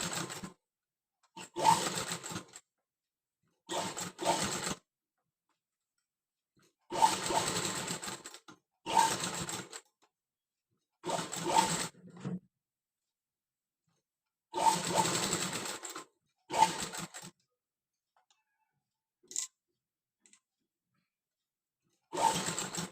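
An electric sewing machine stitches a cutwork blouse back in repeated bursts of rapid mechanical whirring, each lasting a second or two and separated by silent pauses as the fabric is turned, close and fairly loud.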